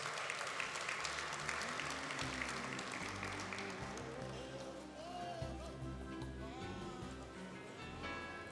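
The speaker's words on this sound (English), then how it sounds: "May we give him an applause." Applause from guests at the 2024 Progressive Business Forum gala dinner, a sustained, even wash of clapping in a large room, with low musical tones sounding underneath the whole time.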